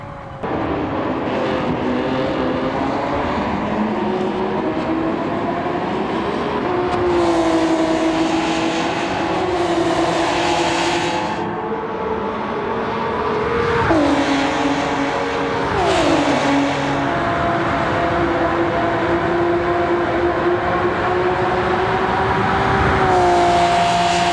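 Race car engine in Gran Turismo 7 during a daily online race, loud and continuous, its pitch climbing through gear changes and dropping as the car brakes, with no voices.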